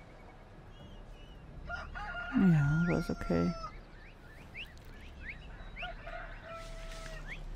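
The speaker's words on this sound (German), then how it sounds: "Ihr Vögel, hört ihr mal auf zu pfeifen?" Birds in the video game Assassin's Creed Odyssey chirp and whistle in a series of quick, high calls against a soft ambient background, while someone speaks briefly over them.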